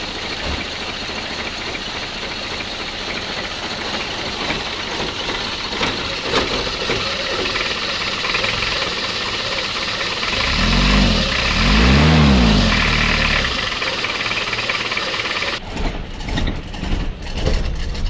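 A car engine idles steadily, then the throttle is raised into a fuller rev before it settles back. A faint ticking knock runs under the engine sound, which plays alone without talking.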